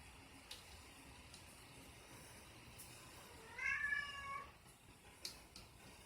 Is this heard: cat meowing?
yes